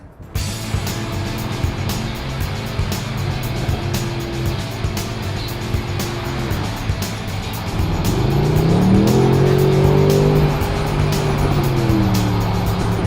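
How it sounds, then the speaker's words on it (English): A 2012 Mercedes-Benz SLS AMG Roadster convertible idles with a steady, close engine drone, then its exhaust roars as it accelerates hard in the final seconds, the pitch climbing through a gear change, with no talking. "you can certainly hear that exhaust system a lot better in the convertible than you can in the gull wing"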